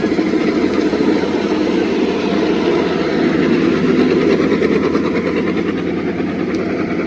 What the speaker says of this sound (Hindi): हेलीकॉप्टर उड़ा वदा है।